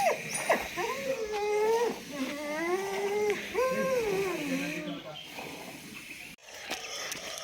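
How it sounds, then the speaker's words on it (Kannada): Several dogs on a village morning walk let out high, wavering whines and whimpers in long rising and falling runs, fairly close and loud, with a faint rustle behind them. "ಎಲ್ಲ ನಾಯಿಗಳು ಕಚ್ಚಕ್ಕೆ ಹೋಗ್ತಾಯಿದೆ"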